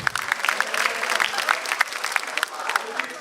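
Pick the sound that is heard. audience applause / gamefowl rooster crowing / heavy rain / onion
audience applause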